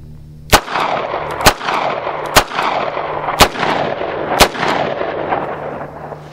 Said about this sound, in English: I'm going to shoot 5 rounds into it